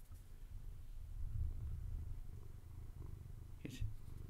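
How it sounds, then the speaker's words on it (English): A pet cat purring close to a microphone, a soft steady low rumble running through the whole stretch, with a faint brief rustle near the end. "did you guys hear him purring in the microphone?"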